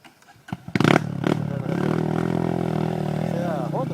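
A Honda CRF 200 motorcycle on a trail ride: a few clattering knocks, then the engine starts and settles into a steady, loud, close idle with a slight rise at the end.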